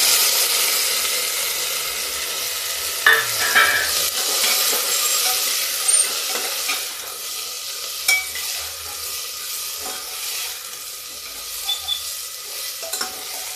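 Peas and cluster beans sizzle steadily in a hot pan on a gas stove, with a strong continuous hiss broken by occasional clicks and scrapes of stirring.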